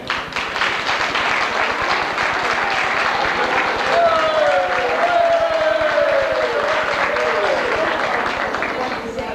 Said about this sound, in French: je vous demanderai une bonne main d'applaudissement pour Denis Giguère.